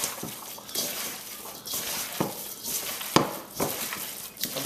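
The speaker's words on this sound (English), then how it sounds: "Alright, so I'm just going to go ahead and mix all this up good." Meatloaf ingredients with breadcrumbs, pepper and hot sauce are mixed by hand in a large bowl, producing soft, wet squelching and slapping in an uneven rhythm, close and fairly quiet.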